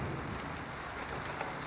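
Heavy rain pours in a steady, dense wash during a thunderstorm, with wind buffeting the microphone and a low rumbling underneath; the roar is constant with no pauses and no one speaks.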